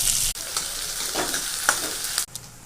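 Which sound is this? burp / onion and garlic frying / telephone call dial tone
onion and garlic frying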